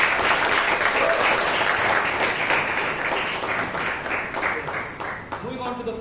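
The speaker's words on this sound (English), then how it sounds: "Can we have a round of applause for Toastmaster Vijay once again," A Toastmasters meeting audience gives a sustained round of applause, a dense crowd of many hands clapping steadily and loudly, thinning slightly toward the end.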